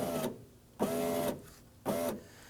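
Power window motor on a 2008-2011 Ford Focus raising a bare window regulator, whirring in three short close bursts with brief pauses between them.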